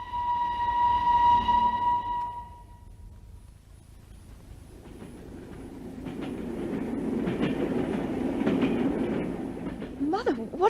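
Train running in a 1950s BBC radio drama, a steady rumbling rail sound with rhythmic clatter building up after a whistle-like tone, heard alongside voices of the play.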